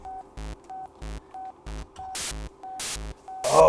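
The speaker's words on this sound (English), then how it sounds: "because now we're going to put in a noise source and check out what happens." Broadband hiss from a synthesizer noise source bursts in on the regular pulsing synth pattern, much louder than the tones around it, growing loud at the end.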